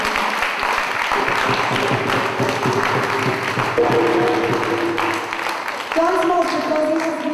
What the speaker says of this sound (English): I'd just like to really ask you all to give a round of applause